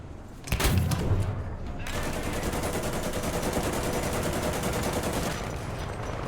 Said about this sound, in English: It's artillery, it's a lot of it.